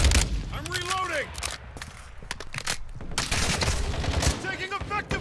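Bursts of automatic gunfire crackle through a multiplayer shooter match, rapid rattling volleys layered with booms and mechanical clatter while players talk over the action.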